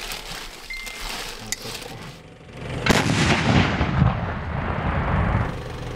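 Artillery shelling near Ukrainian army positions around Robotyne at night: sharp booms and a heavy blast cut through a low rumble, then a long rolling roar lingers, fairly close and loud.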